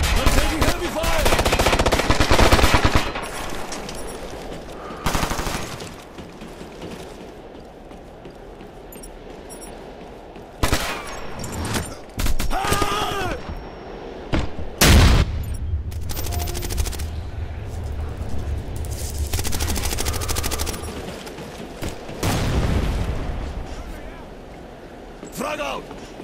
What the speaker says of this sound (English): Yeah, taking heavy fire! I'm taking heavy fire!